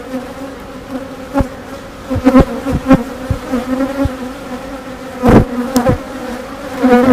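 Honeybees buzz at an open beehive while a farm colony is inspected, a close, continuous drone with a wavering pitch, broken by occasional sharp taps and knocks.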